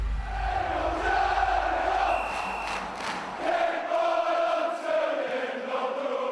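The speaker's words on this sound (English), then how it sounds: "that was a roar, not far off a goal being scored" A Birmingham City home crowd roars at a big defensive tackle during a match against Sheffield United, a loud sustained stadium roar that swells, holds and then eases slightly, with no talk over it.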